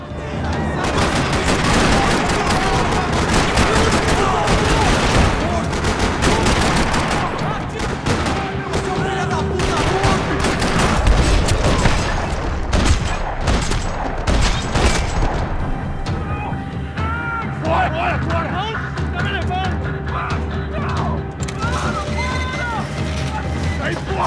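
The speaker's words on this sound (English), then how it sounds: "Another parking lot rattling with gunfire." Loud bursts of rapid gunfire rattle almost nonstop in a parking lot in the video game Max Payne, with booms and a confused mix of voices and game sounds underneath.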